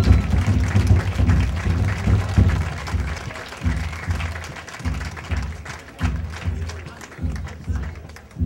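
A crowd applauds at a cycling Coupe Dix30 medal ceremony for the fifth stage, a sustained burst of clapping with occasional louder swells and dull thumps, fairly close.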